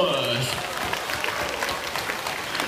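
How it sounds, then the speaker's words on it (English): Audience applause fills the finale of a bird show at Jurong Bird Park in Singapore, a steady, dense clapping that holds at even loudness throughout, with a few faint voices in the crowd. "Let's give them a big round of applause."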